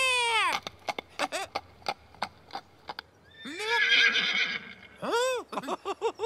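Children's TV characters imitate a horse neighing with voices, producing several nearby whinnying calls in a row, including one longer wavering neigh in the middle.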